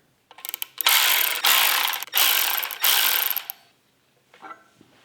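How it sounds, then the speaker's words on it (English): A ratchet clicks rapidly in four loud, close bursts, then one fainter short burst, as nuts and washers are tightened onto the large main studs of a forged John Cooper Works engine during reassembly. "we're going to begin by first installing the nuts and the washers on these large 10 main studs"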